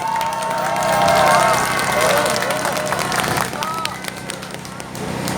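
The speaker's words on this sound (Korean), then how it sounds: "박수 한번 크게 부탁드리겠습니다." An audience at a Korean public lecture on education applauds loudly, a sustained wash of clapping with scattered shouts and a voice over it, gradually thinning out.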